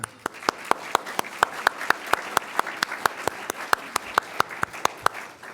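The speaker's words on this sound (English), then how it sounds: "A round of applause for Marie." A round of applause at a Rotary Club Tuesday luncheon, with steady, even claps from a room of guests that hold their pace and loudness throughout.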